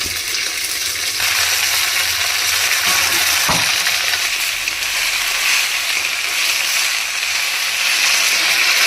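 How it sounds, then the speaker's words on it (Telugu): Mint leaves frying in half a cup of oil in a pan, a steady bright sizzle and crackle throughout, with a brief sharp clink near the middle. "పుదీనా వేపాలి నూనెలో"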